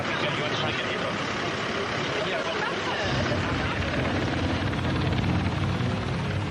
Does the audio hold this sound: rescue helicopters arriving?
yes